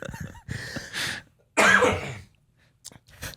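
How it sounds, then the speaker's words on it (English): Several harsh, close coughs and throat clearings come in bursts separated by short silences, with one strong cough in the middle and smaller hacks at the end. "Go ahead while I cough this out."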